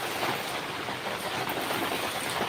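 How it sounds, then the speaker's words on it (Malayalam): Strong wind roars steadily at a live outdoor setting in Kerala, a dense broadband rush with no pauses and no voices. "പെരും കാറ്റാണ്."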